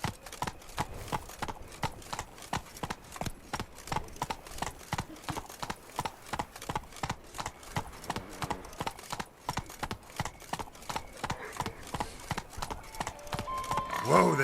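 Roach trots in The Witcher 3, sharp hoofbeats falling in an even, regular rhythm throughout, close and clear, with a faint voice or horse sound at the very end.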